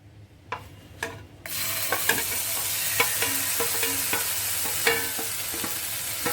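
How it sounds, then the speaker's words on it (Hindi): Ginger garlic paste hits a tablespoon of hot oil in a pan and bursts into loud, steady frying sizzle, with scattered crackles and stirring scrapes over a constant hiss; no one speaks. "इसको सिर्फ रॉ स्मेल जाने तक भूनना है।"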